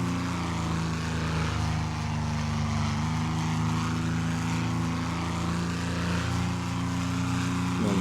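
Low-flying propeller aircraft in the combat flight game Wings of Steel gives a steady, loud engine drone with a constant tonal hum that holds, unbroken and alone, for the whole stretch.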